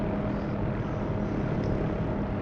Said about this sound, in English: you hear the changes in engine RPM